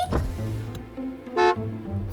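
A car horn honks once outside on a cold, clear day, a short bright blast standing out against a low background hum.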